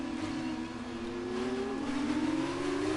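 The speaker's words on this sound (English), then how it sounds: "I don't want the engines to be too loud right now" An F2 race car engine whines in F1 2019 at the Australia circuit, a sustained tone that shifts pitch through a gear change and runs continuously without talk.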